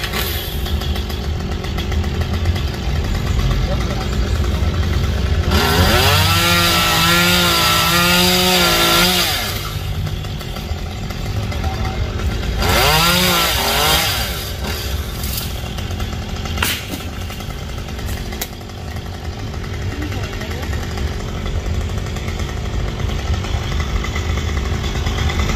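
A chainsaw cuts a poplar tree branch, running steadily throughout with two loud revving bursts of cutting, one long and one short, over a continuous engine drone.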